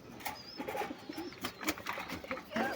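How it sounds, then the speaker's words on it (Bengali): Pet pigeons in their nest give soft, low coos with a few faint chirps and light rustles, close by but quiet, over about three seconds. "আমার আরো 1 জোড়া কবুতর, এরা আমার আদর করে ঠোকর দিতেছে।"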